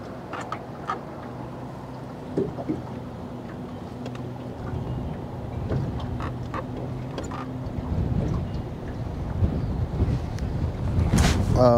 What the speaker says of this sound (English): we're still having some really powerful wind gusts